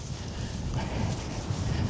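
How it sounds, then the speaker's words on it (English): Wind gusting across a microphone on an outdoor trail walk through a National Trust estate, a steady low rumble and buffeting that swells stronger in the second half, close and continuous. "Ooh, what a gust of wind."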